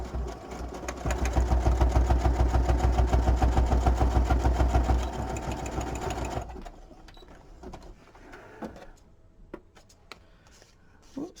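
A sewing machine zigzag-stitches across a paper tag for a botanical journal, a fast steady mechanical whir with rhythmic needle pulses for about six seconds up close, then stopping and leaving faint handling clicks and rustles.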